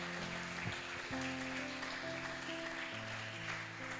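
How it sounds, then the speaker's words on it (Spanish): Applause for Jesus rises from a church congregation during a worship service, a steady crackling patter of clapping that runs the whole time beneath sustained music. "Dale un aplauso a Jesús"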